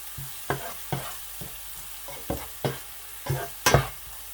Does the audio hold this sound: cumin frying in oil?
yes